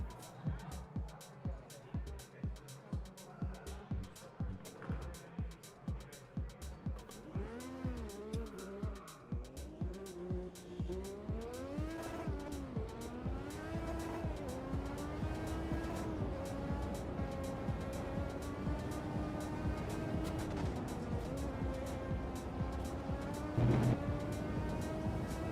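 Racing video game in-car race car engine, a steady rising and falling engine whine with gear-change sweeps running continuously throughout, heard under someone talking over it.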